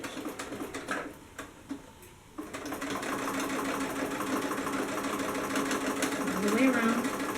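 A sewing machine back-stitches the side seam of paper bag pants, with a fast mechanical rattle that stops briefly and then resumes as a loud, continuous run of stitching close by.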